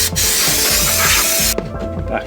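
A spray can hisses in a steady broadband burst for about one and a half seconds during a service on a Vauxhall Astra VXR H Mk5, then cuts off abruptly, leaving quiet workshop sounds and faint clatter.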